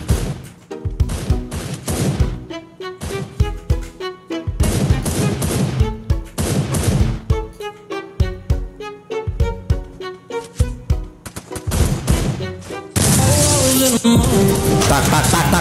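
Loud gunfire from a shooter video game comes in repeated rapid bursts and single shots, separated by brief pauses, then turns into a sustained roar of fire near the end.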